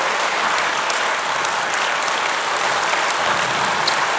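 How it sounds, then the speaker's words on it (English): Sustained, dense applause from a large conference audience at CPAC 2023, following a speech by Senator Jacinta Nampijinpa Price; steady clapping fills the room at an even level throughout, with no talking. "Give us a round of applause"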